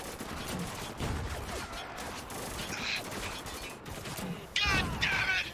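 Gunfire in the shooter Spec Ops: The Line, with bursts and single shots crackling at a fair distance amid a rumbling battle din, and voices shouting over the fighting.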